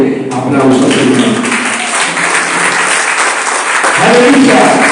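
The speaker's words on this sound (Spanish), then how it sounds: "Den un fuerte aplauso al Señor." A church congregation applauding loudly and steadily for several seconds, a dense sustained clapping with voices calling out over it, fairly close.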